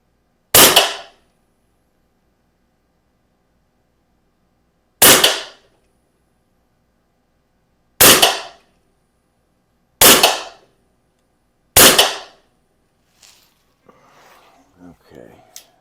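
Five sharp air rifle shots from a Western Rattler fired at a paper target, each a loud, crisp crack with a short decay, spaced several seconds apart, followed by faint handling clicks.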